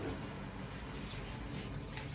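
Tap water runs steadily onto hands in a home kitchen while pinakbet is prepared, a constant splashing rush that fills the whole moment without pause.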